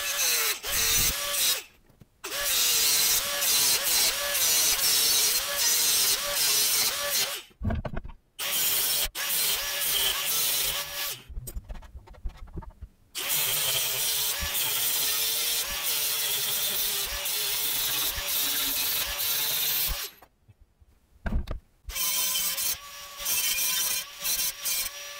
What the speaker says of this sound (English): So what I'm gonna do first is cut the top off of it so I can put the grill plate down inside of it